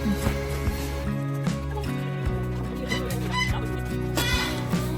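Ducks and geese at an animal park honk and quack among layered, continuous background noise, with several calls overlapping at mid distance.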